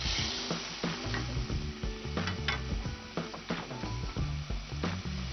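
Gatte, gram-flour dumplings for gatte ki subzi, fry in hot ghee with a steady, dense sizzle and crackle throughout, punctuated by occasional stirring clicks and scrapes.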